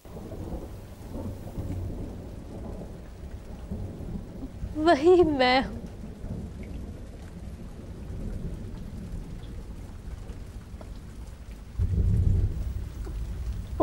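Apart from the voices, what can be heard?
rain falling with thunder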